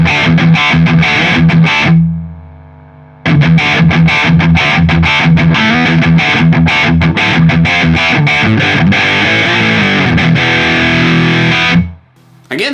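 Loud, crunchy overdriven electric guitar through a Zoom 505ii multi-effects pedal, playing busy riffs, with a short pause near the start and a brief drop before the end.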